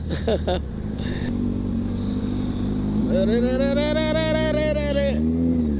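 A motorcycle ridden on a road on the way to a drag race competition: a steady engine drone under wind, then the engine revs up and climbs in pitch before easing back, with a voice briefly heard over it.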